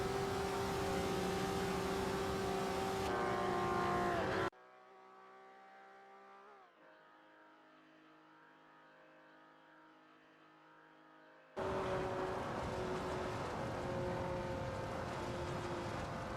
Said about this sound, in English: We just witnessed some exciting racing in the simulated world of AI cars.